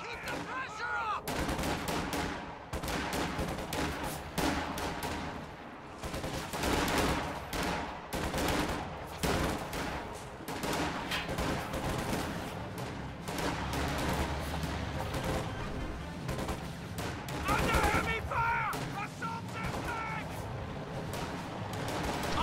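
Dense rifle and machine-gun fire crackles through a strategy game battle, with riflemen trading shots at range; sharp reports overlap continuously at steady loudness for the whole stretch, over a rumbling backdrop.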